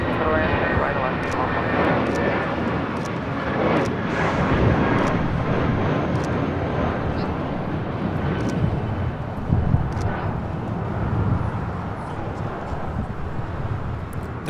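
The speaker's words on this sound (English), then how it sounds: "That was JetBlue Airways Flight 942 taking off to Reno on the A320 in the Peacock livery." JetBlue Airways A320 in Peacock livery taking off from LAX toward Reno, a steady broad jet roar filling the scene throughout, with voices talking over it.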